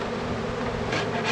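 Honeybees drone steadily around an open hive at a farm apiary, a dense close buzz that holds continuously without pause.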